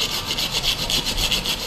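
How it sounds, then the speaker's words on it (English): A hand saw cuts through branches of storm-uprooted trees, a loud close rasping with regular back-and-forth strokes, about six strokes in under two seconds, alone with no talking. "Off-duty firemen had a labour-intensive morning sawing branches from uprooted trees."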